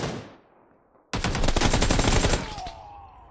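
An M700 sniper rifle firing in PUBG Lite: a sudden loud, sharp report that rings out for over a second before trailing into a fading echo, preceded by the decaying tail of an earlier shot.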